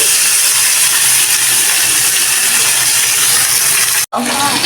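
Fish pieces frying one by one in hot oil in a home kitchen, being cooked for a fish curry; a loud, steady hiss runs throughout and cuts out briefly near the end before resuming.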